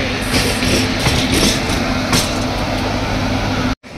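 Indian Railways WAG 9 electric locomotive at Surat station, a steady loud rumble and hum close by, with a constant mechanical drone for nearly four seconds before an abrupt cutoff.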